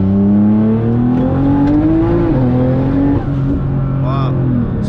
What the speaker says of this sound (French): Donc je vais accélérer.